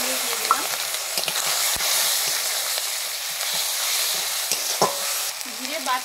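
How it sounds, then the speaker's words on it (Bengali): Paste of turmeric, chili and cumin ground in water hits a hot pan, giving a dense continuous sizzle with a few sharp clinks and scrapes of stirring, close and fairly loud, no talk. "এবারে জলে গুলানো হলুদ লঙ্কা জিরে একসঙ্গে দিয়ে দিলাম।"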